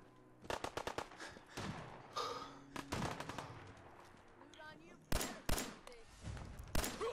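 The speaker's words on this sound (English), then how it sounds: "What do I hear? Gunfire." Gunfire in the Fallout 4 video game: several bursts of rapid shots and single cracks at moderate volume, spread across the clip with short gaps between volleys.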